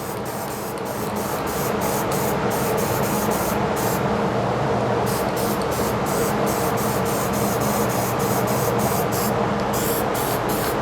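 Spray paint hissing steadily from an aerosol can, a loud continuous spray with a few brief pauses in the rush, heard alone without talk.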